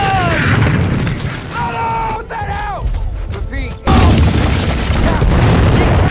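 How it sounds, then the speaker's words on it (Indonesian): A loud artillery shell explosion booms in a wartime scene of the winter Battle of Bastogne, a heavy blast under narration and dramatic sound effects. "Satu tembakan artileri tiba-tiba menghujam tubuh Letnan Wills."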